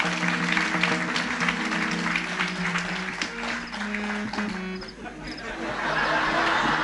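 Kirtan audience clapping loudly for two attendants, a continuous thick burst of applause that dips briefly in the middle and swells again toward the end, with a faint held musical drone underneath.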